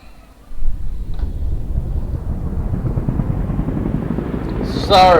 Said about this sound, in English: This is our transport helicopter we got in the game right now.